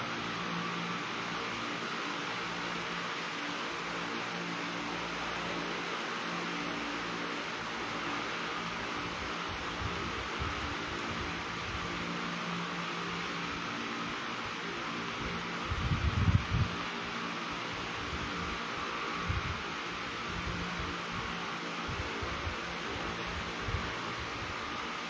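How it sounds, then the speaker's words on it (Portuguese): An electric fan runs in an indoor room, giving a steady, even whoosh of air that holds at a constant level for the whole stretch, with a few faint bumps of movement near the middle. "Tem que diminuir o ventilador, né, Edmilson?"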